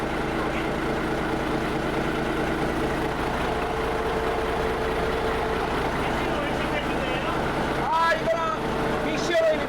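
A boat's engine hums loudly and steadily in a hot, cramped ship engine room, a constant low drone with a few brief clatters near the end and people talking over it.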